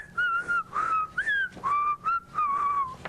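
A person whistles a short melodic tune, clear and close, in several phrases with brief pauses between them.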